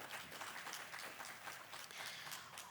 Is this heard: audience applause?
yes